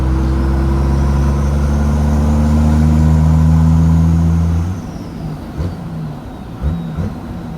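The turbocharged 12-valve engine of a 1990 Dodge W250 truck holds a loud, deep rev for several seconds up close, then drops back to a rough, lumpy idle with small blips; no one speaks.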